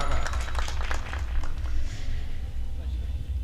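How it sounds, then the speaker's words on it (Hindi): An audience applauds at an All India Mushaira ghazal recitation in Ghazipur, with dense, steady clapping from the crowd throughout and voices heard over it. "जोरदार तालियां"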